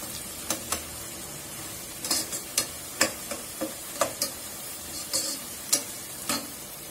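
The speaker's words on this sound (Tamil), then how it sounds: "இந்த பேஸ்ட் வந்து கொஞ்சம் பச்சை வாட போற வரைக்கும் வதக்கிக்கோங்க." Spice paste sautéing in a pan, a low continuous sizzle punctuated by regular sharp clicks and scrapes of a spoon against metal, close and fairly even in rhythm.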